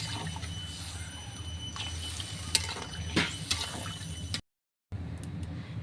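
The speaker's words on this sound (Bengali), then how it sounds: "এবার এর মধ্যে আমি ঝোল দিয়ে দিচ্ছি" Broth poured into a potato curry frying in a pan gives a steady sizzle with a few sharp clinks and stirring scrapes, briefly cutting out before the bubbling resumes.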